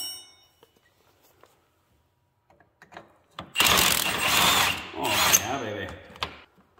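A stuck track adjuster bolt on an XC 700 snowmobile being worked with a power tool, giving two loud bursts of rattling, whirring drive after a few faint taps and clinks.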